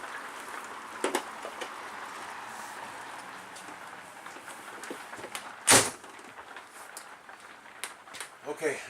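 A door is shut with one sharp loud bang midway, near and clear, amid quiet room tone, soft handling knocks, and a person talking as rain threatens.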